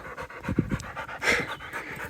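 A tired dog pants hard on the way down a mountain hike, quick rhythmic close-up breaths repeating steadily and loudly with no talking over them.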